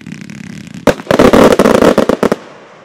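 A Katan fireworks cake, model 9845 At Once, fires a rapid volley of loud, close bursts after a quiet moment, the shots cracking in quick succession before abruptly stopping.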